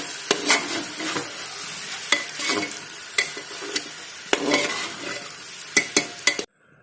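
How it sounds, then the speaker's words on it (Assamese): Soaked masoor dal and spices sizzle in a pan before pressure cooking, with repeated scraping strokes of a spoon stirring at an uneven rhythm, close and fairly loud, ending abruptly. "এইখিনি এতিয়া অলপ ভাজি ল'লোঁ"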